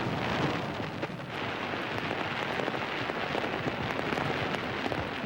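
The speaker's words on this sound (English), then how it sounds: "Over 2 million people lined the embankment to watch volleys of fireworks chase each other down the Thames." Millennium midnight fireworks over the Thames in London make a dense, steady crackle of bursts and fizzing pops, heard from a distance as a continuous rain-like wash with occasional stronger thumps.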